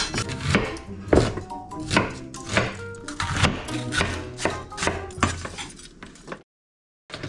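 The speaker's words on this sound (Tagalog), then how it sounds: "Slice natin ng sibuyas." An onion is sliced with a knife on a board, giving a brisk run of sharp, close chopping taps in uneven rhythm that stops abruptly near the end.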